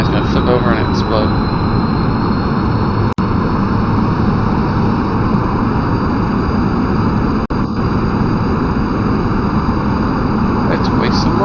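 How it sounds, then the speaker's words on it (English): Spaceplane jet engines in Kerbal Space Program roar as a steady, loud, broadband drone that holds throughout, with a faint voice underneath and two sharp clicks partway through. "Let's try the jets and see what they do."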